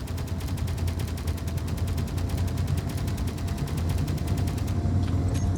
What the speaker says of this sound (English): Puny little guns.